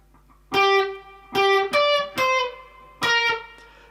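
An electric guitar plays the first bar of a riff, four bright distorted notes struck close and loud with short sustains, no talking over it.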